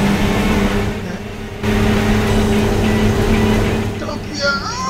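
Engine roar from a Jeep driving and boosting in the PS2 racing game Jeep Thrills, a loud, steady motor drone that briefly dips, then surges back, with excited talk over it.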